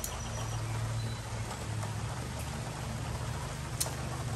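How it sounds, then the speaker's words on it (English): Steady rain falls with a constant hiss, a low hum underneath and an occasional louder drip or tap. "and it's raining"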